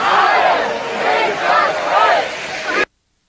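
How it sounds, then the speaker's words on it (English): German-speaking crowd chanting in unison at a street protest, a dense roar of many voices rising and falling in rhythmic waves, loud and continuous before cutting off abruptly. "I always get a little worried with German chants from a crowd"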